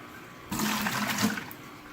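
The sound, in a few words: aquarium protein skimmer waste dumped and flushed down a toilet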